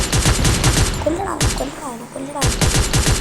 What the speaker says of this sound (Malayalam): മുമ്പിൽ വെടി.